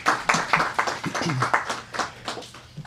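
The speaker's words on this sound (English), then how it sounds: "Please give him a round of applause." A press conference audience gives a round of applause, heard as a scattered run of distinct claps of moderate loudness, mixed with voices talking over them.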